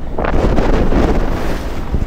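Steady wind roars over the microphone on a sailboat at sea off Sicily, mixed with low rushing water and hull noise, loud and continuous with no voices.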